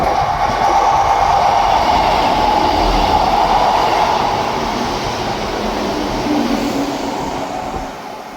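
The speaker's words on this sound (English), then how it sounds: "Passing through now is the 1514 ScotRail service from Edinburgh Waverley to Dundee." ScotRail service from Edinburgh Waverley to Dundee runs through Dalmeny or North Queensferry station, a steady loud rumble of wheels and motors that stays close and even for the whole passage, with no talk over it.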